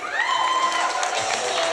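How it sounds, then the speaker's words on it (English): Crowd at a live summit event cheers and whoops as a guest takes the stage, a steady dense roar of voices with some applause mixed in, loud and continuous throughout. "Keep clapping"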